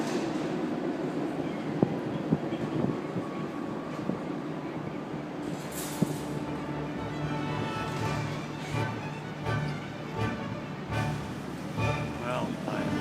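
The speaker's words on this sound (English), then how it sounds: "If you listen carefully, you'll hear a train thundering over the bridge." A train rumbles and clatters across the Sydney Harbour Bridge, heard from a cruise ship in the busy harbour as a distant, sustained rolling roar with occasional clanks, while a person talks nearby.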